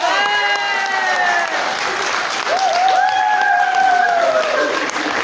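Audience at an evening hypnosis show applauding the volunteers: dense, loud, sustained clapping with high sliding whistles rising and falling over it.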